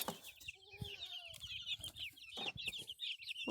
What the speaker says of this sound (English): looks like we got some happy chickens